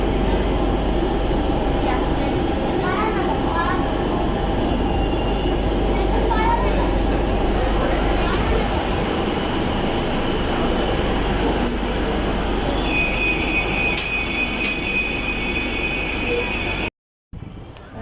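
A Kolkata Metro train at Baranagar station gives a loud, steady rumble and rattle throughout, with a thin high squeal entering near the end before a brief drop to silence; voices talk over it.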